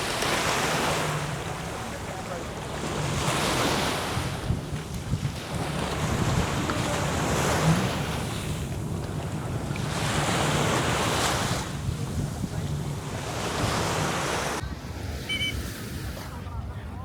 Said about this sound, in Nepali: यो चाहिँ जेट स्की भयो